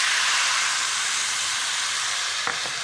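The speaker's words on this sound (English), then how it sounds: "Yeah, so you can see it's bubbling. It's really hot in there" Port wine poured over roast pork scotch fillet in a very hot pan, bubbling with a loud, constant steamy hiss that stays even throughout, with a faint clink near the end.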